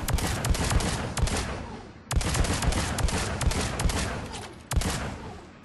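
Rapid pistol shots from the Phalanx in Mass Effect 3 at a target range come in three separate bursts of sharp, evenly spaced cracks. They are close and loud, with no talking.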